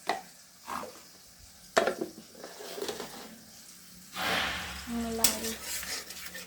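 Garlic paste and ginger paste, about two spoonfuls, added to a hot pan. A soft sizzle comes in bursts between spoon clinks and scraping stirs, and a louder hiss rises near the end.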